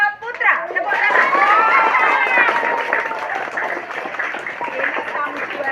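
A crowd of children and adults at a school awards ceremony claps for a competition winner, a sustained ragged round of applause mixed with chatter and excited voices, fairly close and loud throughout.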